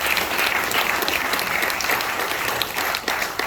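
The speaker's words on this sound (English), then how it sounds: "give yourselves another round of applause" Dense, steady applause from an audience at the Hawaii Village of the Polynesian Cultural Center on O'ahu, a continuous wash of clapping hands that holds at the same level throughout.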